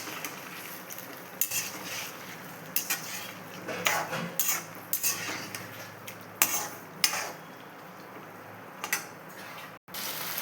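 Citron (narthangai) pieces with green chillies being sautéed in hot oil: a steady low sizzle with repeated clinks and scrapes of a metal spoon against the pan, close and moderately loud, with no talking.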